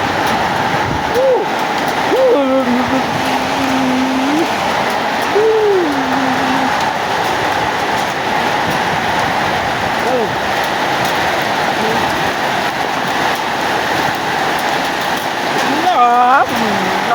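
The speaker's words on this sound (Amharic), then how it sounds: "በጣም ከባድ በረዶ ነው የሚጥለው።" Heavy hail pours down in a dense, unbroken roar that stays loud and steady throughout, while people's voices rise and fall over the clatter.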